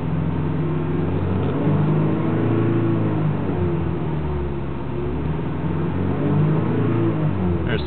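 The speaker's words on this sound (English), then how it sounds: "you have to rev it to get it to adjust" A car fitted with a Japanese Pivot shift light revs up to about 3000 RPM, a steady, fairly loud mid-pitched engine drone that swells and holds without any talk.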